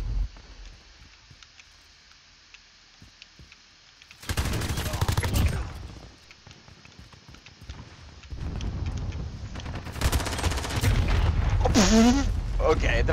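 Gunfire and rocket-launcher blasts erupt in Modern Warfare gameplay, loud bursts of rapid shots coming in two clusters with quieter gaps between them.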